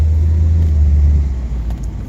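An old car drives with a steady, heavy low engine rumble that eases slightly toward the end, close and loud with no talking.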